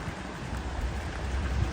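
Heavy rain in St. Petersburg, a dense, steady hiss of drops hitting surfaces close by, constant and fairly loud with no voices.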